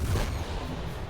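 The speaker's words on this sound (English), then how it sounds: "There we go. Explosion. 665 damage." A brief, close explosion from a video game, a single heavy boom with a rumbling low tail and no talk over it.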